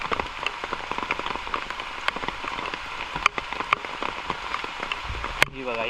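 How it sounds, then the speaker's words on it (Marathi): Heavy rain pours steadily in a dense hiss beside a river in Konkan, with scattered louder drops pattering on a nearby surface throughout. "पावसाने जोरदार सुरुवात केलेली आहे"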